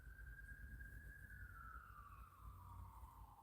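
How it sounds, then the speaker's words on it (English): A faint police car siren wails in the distance, a single sustained tone slowly dropping in pitch as it passes along a road, over a low rumbling background. "It was cop car sirens going down the road."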